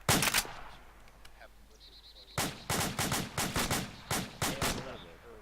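Rifle fire during a fire team operations training drill, a burst of shots at the start, then a rapid series of sharp, loud outdoor gunshots in an uneven rhythm.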